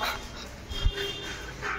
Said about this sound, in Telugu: అది ఒక హస్కీ డాగ్ ఉంటుంది ఇక్కడ